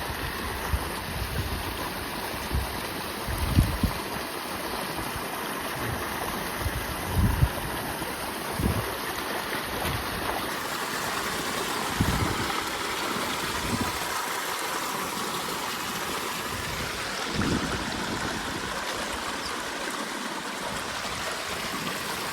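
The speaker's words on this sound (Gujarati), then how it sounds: "વરસાદ પાછો જોરદાર ચાલુ થઈ ગયા ને એને પલ્લી ગયો નીચે વરસાદ ફૂલ ચાલુ થઈ ગયો" Heavy rain pours down in a village near Botad, a dense continuous hiss with wind rumble and scattered heavier splashes and gusts throughout.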